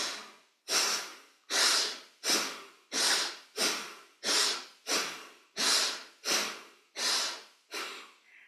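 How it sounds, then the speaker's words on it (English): Forceful breaths during a breathing exercise with arm movements, about ten loud close inhale-exhale bursts in a steady rhythm, each rushing breath separated by brief silence. "We will forcefully inhale as we move our arms up, open the palms. Exhale, make fists and bring them down again."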